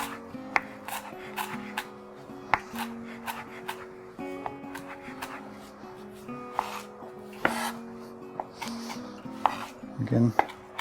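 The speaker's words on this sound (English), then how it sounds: "sometimes it just gets really chopped up really fine, like so" Irregular knife taps on a wooden board as parsley is chopped fine, some sharp chops and softer scraping strokes, with faint voices and tonal background sounds underneath.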